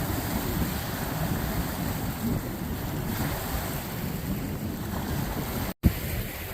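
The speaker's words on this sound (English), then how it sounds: "Beautiful view, just super windy." Strong wind buffeting the microphone at Turquoise Reservoir, a steady loud rushing roar with no talk, broken by one brief handling thump near the end.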